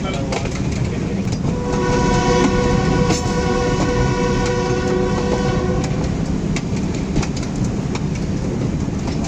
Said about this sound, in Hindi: पिंड दादन Khan Malakwal shuttle train approach कर रही है मलकवाल जंक्शन पर।